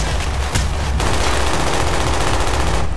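Sustained automatic gunfire from the video game Call of Duty Black Ops: a loud, dense, unbroken burst of rapid shots runs for about three seconds, with a sharp crack partway through.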